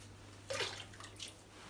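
A Billi tap releases boiling water in a short, hissing gush after its lever is pushed down, followed by a softer splash and a steady low hum beneath.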